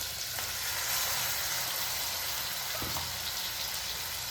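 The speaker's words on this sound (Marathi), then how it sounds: "आता जी शिमला मिरची होती ती टाकून घेऊया" Capsicum goes into a pan of frying mixed vegetables with tomato, raising a loud, dense, continuous sizzle that holds steady with a couple of faint clinks near the end.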